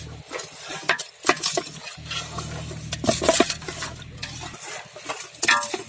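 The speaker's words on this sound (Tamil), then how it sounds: "இப்படி ஒரு நாலு முறை அலசணும் மீனை." Mural fish are rinsed by hand in a vessel, with irregular wet sloshing, rubbing and clinking against the pot, close and fairly loud.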